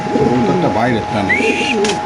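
Pigeons coo close by in soft, repeated throaty warbles, with a brief higher whistle-like note partway through.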